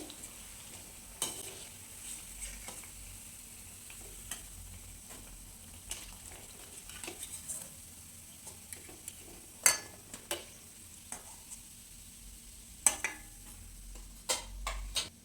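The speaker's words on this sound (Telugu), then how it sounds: "మిగతావి కూడా అలానే ఫ్రై చేసుకోవాలి" Bread pieces deep frying in a pan of oil give a low, steady sizzle with scattered clinks and scrapes of a utensil, a few sharper knocks standing out, no voices.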